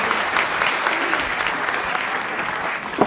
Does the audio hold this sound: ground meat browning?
no